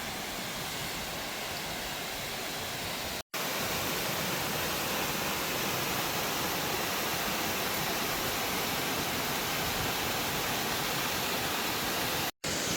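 Horsepound Falls, a waterfall in Savage Gulf State Park, Tennessee, roars as a steady, loud, broadband rush of falling water that fills the whole clip without pause, heard up close with no voices.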